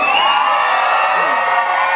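Audience at a Christmas train concert screaming and whooping on request, a loud sustained crowd yell with many high voices including children, filling the whole moment.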